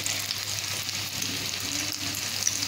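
Potato veg kebabs fry in a pan with a constant crackling sizzle and occasional stirring scrapes, close and steady the whole way through.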